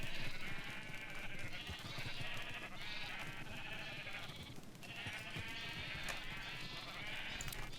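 Sheep bleating in Minecraft 1.12 on a redstone mutton and wool farm, several overlapping bleats repeating steadily over a continuous game background, fairly faint with no talk.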